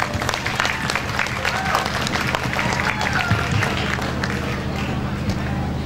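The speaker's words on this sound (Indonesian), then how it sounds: "tepuk tangan untuk semuanya" Crowd applause fills the hall at the closing ceremony of the Zorfas 2023 event, which had about 1,980 participants. Many hands clap steadily in a dense, continuous wash with no pauses.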